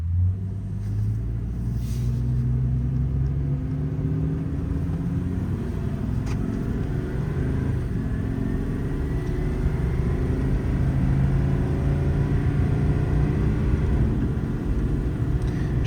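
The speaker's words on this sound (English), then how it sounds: "Wait a second for this forklift to go by." A vehicle, likely a forklift, drives past outdoors with a steady low engine rumble and shifting drone that persists throughout, fairly loud and close, with no talking.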